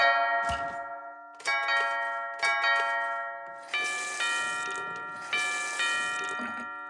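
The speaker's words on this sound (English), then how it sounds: "We put door chimes on everything." Door chimes ring out in a cartoon, a series of clear, bright bell tones struck one after another in a steady rhythm, each ringing on and slowly decaying before the next, with no voices over them.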